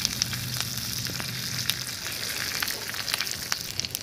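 Fresh curry leaves and spices crackle and sizzle steadily in hot oil over a medium flame while a spicy sooji snack is prepared, with close, continuous frying and scattered pops.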